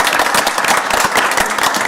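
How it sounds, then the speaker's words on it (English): Loud, dense applause fills a governing board public meeting, many hands clapping steadily and close by with no pause. "So again, a round of applause for these 2."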